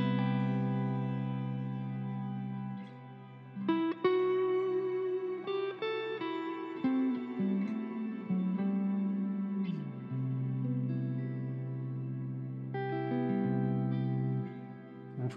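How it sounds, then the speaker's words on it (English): Sustained synth chords drenched in a shimmer reverb built in the Cardinal modular synth, the tail blooming upward in pitch with long washy echoes as notes change every couple of seconds. "just to add some extra reverb without that being in the feedback loop"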